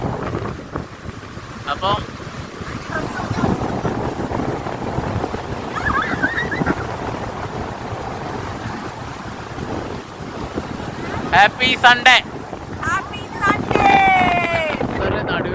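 Strong wind buffets the microphone at Mattool beach, with waves surging as a steady broadband roar, while a person talks over it and a few brief higher voices break through near the end.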